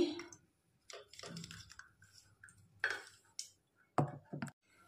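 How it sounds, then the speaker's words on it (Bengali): A single egg being whisked in a bowl with a fork or whisk, heard as quick irregular clicking taps in short bursts with pauses, close and fairly faint. "একটা ডিম ফেটিয়ে নিচ্ছি আমি।"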